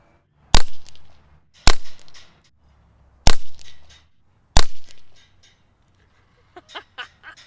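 Four sharp, loud shots from a Brocock Concept Lite airgun, each a crisp crack spaced roughly a second apart, followed by faint clicking handling noises near the end.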